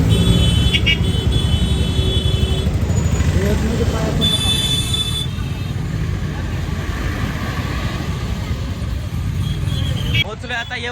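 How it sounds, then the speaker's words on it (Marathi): Heavy road traffic on a busy street, a dense continuous wash of engines and tyre noise with passing vehicles and occasional tones cutting in, close and loud, with voices mixed in. "इथं भरपूर ट्रॅफिक आहे तुम्ही बघू शकता"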